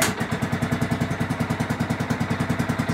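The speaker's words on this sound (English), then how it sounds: "I've never seen a tractor in my life start up like this" A Craftsman riding tractor engine runs steadily at close range with a fast, even pulsing chug and a mechanical clatter. No one speaks.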